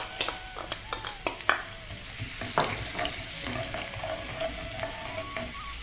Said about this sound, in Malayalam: വെളുത്തുള്ളി ചെറുതായിട്ടൊന്ന് ഫ്രൈ ആയി കഴിയുമ്പോഴത്തേക്കും ഇഞ്ചി അരിഞ്ഞിരിക്കുന്ന ഇട്ട് കൊടുക്കാം.